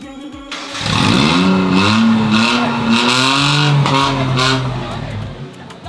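A car engine with a cut silencer roars up in a loud, sustained rev, swelling and easing a few times before dropping away, with voices faintly mixed in.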